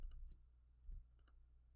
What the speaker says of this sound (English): I wonder if I can get the data by right-clicking.